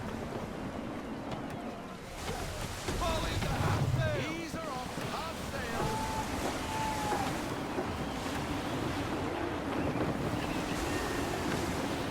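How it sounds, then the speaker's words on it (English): Gusty wind at sea in Assassin's Creed 3 Remastered, blowing and rushing with surf and a sailing ship's creaks, steady and fairly faint, with voices speaking over it. "Gusty winds can be difficult."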